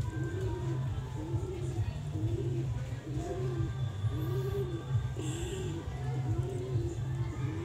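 A pigeon coos over and over in a steady rhythmic series of soft, low, rolling calls, fairly close, over a constant background hum.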